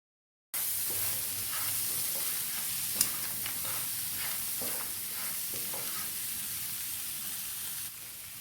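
Chopped tomato, onion and green chili sizzle steadily in a hot pan for noodles, a broad continuous frying hiss with soft scraping stirs and one sharp clink near the start, no talking.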